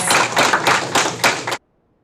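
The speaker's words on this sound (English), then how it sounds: "a round of applause, yes" A short burst of applause from a group, steady clapping that cuts off abruptly into silence.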